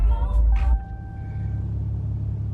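A modified Cummins diesel truck engine idles with a deep, throaty rumble, a louder burst at the start settling into a steady low drone close by.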